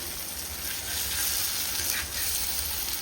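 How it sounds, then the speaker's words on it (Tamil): Fish frying in a pan of oil for a home-style Sunday fish curry lunch, giving a steady, close hiss of sizzling that swells slightly midway and runs throughout with no talk. "ஃபிஷ் ஃப்ரை வந்து ரெடி ஆகிட்டே இருக்கு."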